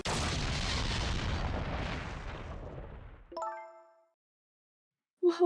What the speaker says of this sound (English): What in the world? An explosion?